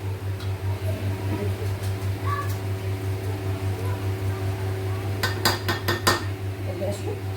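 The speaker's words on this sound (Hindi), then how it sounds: "सब्जी को चला देते हैं।" A spoon stirs a chana dal and eggplant curry with yogurt in a pan over a low gas flame, giving a few metallic clinks and scrapes over a steady low hum.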